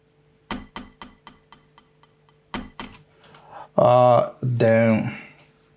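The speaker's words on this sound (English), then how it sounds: "So the woods, they sound like this." Wood block percussion in an Afro house pattern in FL Studio: dry, sharp clicks in short rhythmic bursts with gaps between. Two loud tonal synth stabs follow at the end.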